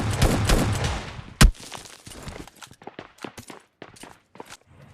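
Gunfire in the mobile battle-royale game PUBG Mobile Lite: a dense burst of shots at the start, then one sharp loud report, followed by scattered fainter pops and clicks.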